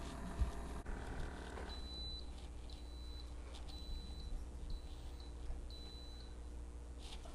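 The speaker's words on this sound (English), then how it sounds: "So it does 5 beeps. I counted them this time, signaling that it is done." Five short, high-pitched electronic beeps from a Maestri House milk frother signal completion, sounding at an even pace over a low, steady hum in a quiet room.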